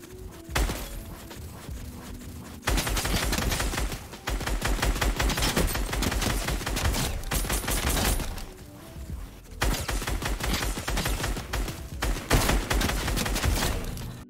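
Dense automatic gunfire from a first-person shooter video game while aiming down sights, long sustained bursts of rapid shots separated by brief pauses, loud and close with no talking.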